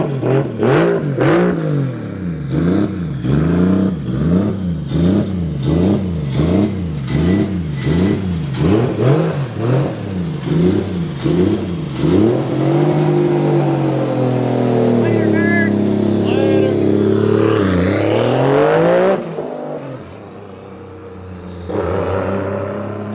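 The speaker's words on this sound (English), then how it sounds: "So much deeper, so much more turbo sound in it." A turbocharged drift car's engine revs hard and loud up close in rapid repeated rises and falls, then holds a long high climb before cutting off, with people talking and exclaiming over it.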